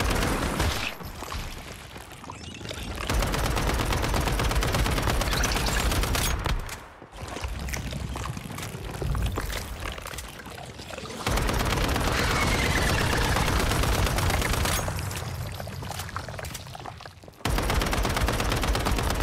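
Sustained automatic gunfire aimed at the final boss in Once Human, loud rapid bursts that stop in brief gaps now and then and start again, with no voices.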